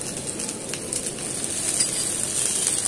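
Chopped garlic crackles in hot oil in a frying pan, a continuous even sizzle with light popping, close and moderately loud.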